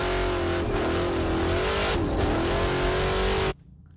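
Race car at the St George 399 event roaring past up close, a loud sustained engine note with a pitch sweep as it goes by, cutting off abruptly near the end.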